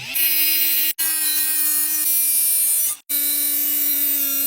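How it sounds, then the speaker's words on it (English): A bench grinder sharpens lawn mower blades, giving a loud, steady whine with harsh high grinding noise, broken twice by brief pauses as a blade is lifted away and pressed back on. "Now I'll grab our grinder and get these guys sharpened up."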